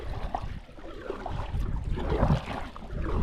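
Kayak paddling on a calm lake during a fishing outing, with soft irregular water swishes and light wind rumble, no talking.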